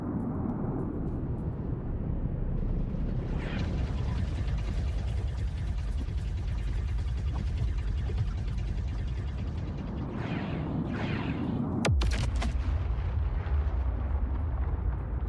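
A bomb detonates in the space game Star Citizen, a heavy rumbling blast that swells and holds for several seconds, then a second sharp crack near the end with rolling low booms continuing after it.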